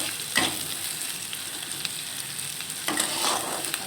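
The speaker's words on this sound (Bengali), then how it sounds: "এটাকে ভালো করে কষিয়ে নিতে হবে।" Onion, garlic and green chili frying on high heat in a pan for a spicy fish dish, a steady close sizzle with a couple of stirring scrapes near the start and end, no voices.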